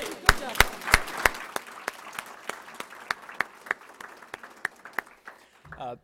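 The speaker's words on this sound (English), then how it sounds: "Round of applause for our panelists." A room of people applauds panelists at a lunch-and-learn event, sounding as a thin, fairly quiet round of scattered individual claps that start with a few louder ones and slowly thin out over several seconds.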